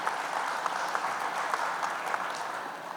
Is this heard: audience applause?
yes